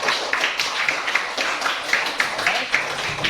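A classroom of fifth-grade pupils applauds together, a steady, dense patter of many hands clapping close by for about three seconds with no pause.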